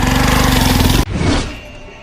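A motorcycle engine runs close by with a loud, rapid, pulsing chug for about a second, then drops off suddenly into a lower, rougher rumble that fades.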